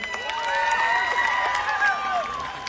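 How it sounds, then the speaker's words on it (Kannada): An audience at the Hampi festival stage cheers and claps, with shouts and whoops rising over steady applause for the whole stretch. "ಇವರಿಬ್ಬರಿಗೂ ಸಿಕ್ಕಾಪಡೆ ಜೋರ ಬರಲಿ ಚಪ್ಪಾಳೆ."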